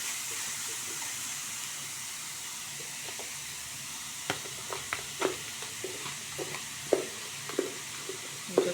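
Tomato gravy sautéing in a pan, a steady low hiss at first, then a run of quick light taps and scrapes as it is stirred, close and moderately quiet with no talking.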